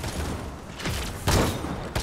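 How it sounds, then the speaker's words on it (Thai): A few booming, noisy bursts of explosions in the game Paladins, one louder blast in the middle, with a rumbling, crackly texture. "โอ้ยระเบิดแล้ว"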